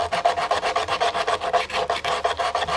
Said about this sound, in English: and then start to sand it all off